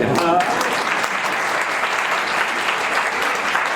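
A crowd at a Swaminarayan satsang gathering for a 45th Patotsav breaks into sustained, dense applause that fills the room evenly, with a voice briefly heard at the start.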